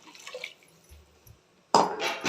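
Cooked karamani bean water poured into a cooking pot for a Tamil kuzhambu, coming in near the end as a sudden, loud, close gush of liquid that carries on steadily after a quieter stretch.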